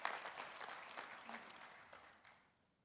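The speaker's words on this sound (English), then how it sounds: "Please give the board a big round of applause." A conference audience at an association's annual business meeting gives the board a round of applause, a scattered crowd clapping heard faintly at a distance that gradually thins and fades out.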